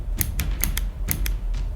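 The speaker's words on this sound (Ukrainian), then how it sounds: "скелетонований курок з дуже коротким ходом і характерним кліком" A KJ Works KP-16 airsoft M1911 pistol with a skeletonized short-travel hammer gives a run of sharp metallic clicks, about six crisp snaps in under two seconds, close and fairly loud against faint background hum.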